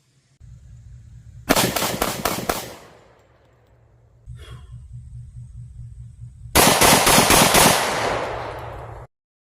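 A Smith & Wesson M&P 45 Shield pistol firing jacketed hollow points at a range lets off two rapid strings of sharp, loud shots, each burst trailing off with echoes over a low background drone.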